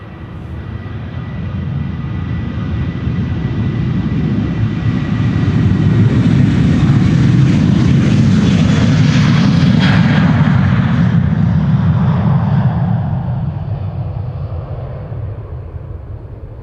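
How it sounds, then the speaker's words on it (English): A Boeing 787 Dreamliner departing Amsterdam Schiphol Airport, a loud jet roar that swells to a peak mid-pass and slowly fades, heard up close with no voices. "Dreamliner."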